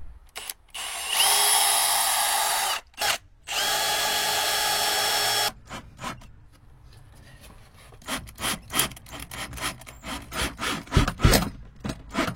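A power drill boring pilot holes into a thin wooden panel inside a camper van's storage compartment, two long steady whirring runs followed by scattered knocks and handling clatter, close and loud.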